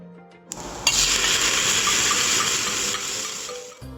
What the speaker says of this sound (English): Stir and mix and saute the pieces of onion and cabbage so that it's coated well by the chopped garlic pieces.